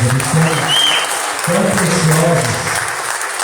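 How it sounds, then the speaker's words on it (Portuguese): Steady, dense applause from a church congregation at an evening service fills the whole stretch, with a low hum and indistinct voices underneath. "Vamos aplaudir o Senhor por esses amados."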